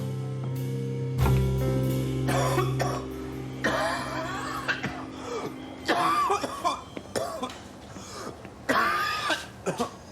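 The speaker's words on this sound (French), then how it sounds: "vous toussez encore, vous?" Several separate coughs and throat-clearing bursts, fairly close, spread across the clip, with a sustained tone fading out early on.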